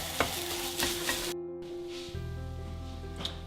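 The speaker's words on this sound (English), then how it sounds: "you get that spice mixed in real well with the sisig" Spicy sisig stirred and sizzling in a hot pan, with steady frying crackle and a few scraping stirs, then a brief drop before the sizzle resumes, close and fairly quiet.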